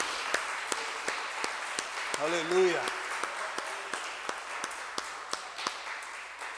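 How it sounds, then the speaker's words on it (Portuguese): A church congregation gives a round of applause to God during a worship service. The clapping is fairly faint, with distinct claps spread through it, and a voice briefly calls out partway. "Então dá uma salva de palmas para Ele"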